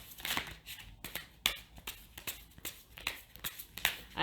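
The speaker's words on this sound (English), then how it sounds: "just one more clean shuffle for Libra." Repeated crisp riffling and slapping of a tarot deck being shuffled, a quick bursty rhythm of flicks and taps up close, no talking.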